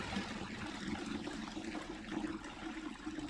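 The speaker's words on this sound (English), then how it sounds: "You can dump out that water." Water sloshing and pouring out of a Wonder Washer, a small hand-cranked portable washing machine drained with its lid locked on, a steady close splashing and trickling stream running throughout.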